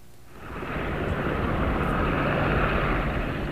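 A U.S. Army medical helicopter prototype flying, a broad steady engine and rotor roar that swells in over the first second and then holds loud and constant.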